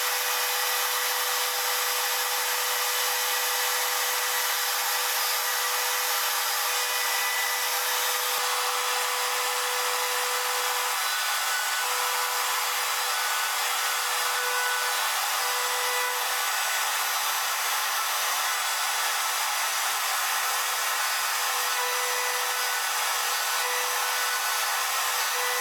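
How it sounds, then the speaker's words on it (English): A router cuts wood for a house number sign with a steady, high whining roar held without a break, loud and close and unchanging for the whole stretch. "So I've routed them both out."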